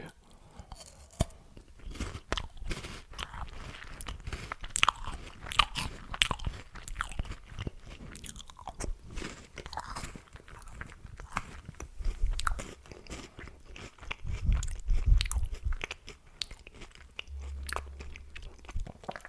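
Close, quiet crunching and chewing with irregular bites and mouth noises, continuing steadily at low volume.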